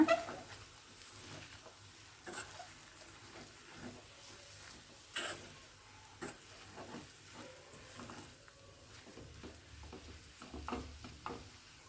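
Finely chopped fenugreek leaves being stirred and fried in a pan for a Karnataka Brahmin mente soppu dish, with quiet sizzling and intermittent scraping stir strokes, faint and close.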